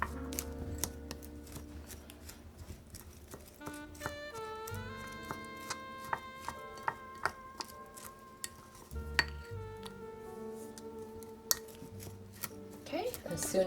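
Butter is mixed into a keto tuna casserole topping in a bowl, with repeated clinks and scrapes of a utensil against the dish and a few sharper knocks, steady and close.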